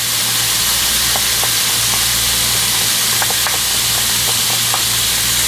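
Garlic sizzling in a hot frying pan of oil while cooking garlic butter shrimp, a steady close hiss with faint crackling pops throughout and no talking.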